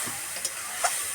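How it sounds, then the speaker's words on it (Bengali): Spice paste fries in a pan with a soft, continuous close sizzle and hiss, while a couple of faint clinks of stirring sound briefly. No voices are heard. "দিয়ে দিচ্ছি মশলাটা একটু কষিয়ে নেব।"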